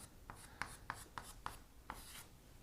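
A marker squeaks across a board while drawing a line, heard as about six short, faint scratchy strokes in an irregular rhythm in a quiet room.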